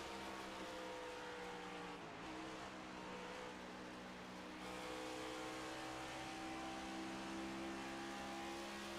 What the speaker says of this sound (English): you hear him downshift, grab 4th gear